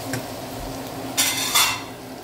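Garlic, onion and fish cakes stir-fried in a pan for pancit, with a steady low sizzle, light scraping of a utensil, and two brief louder bursts of stirring clatter.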